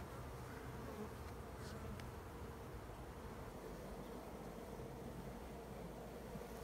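Honey bees buzz in a dense, steady drone during a spring hive inspection in North Seattle, Washington, with a faint, even hum and no speech.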